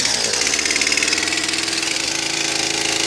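A small engine runs on full choke, a close, loud, steady rattling drone with a fast, slightly uneven chugging pulse throughout.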